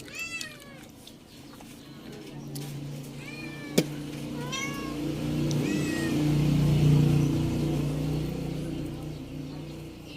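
Cats meow several times in a rising, plaintive series, mostly early in the clip, while a steady vehicle engine hums and swells in the background and a brief sharp knock cuts through.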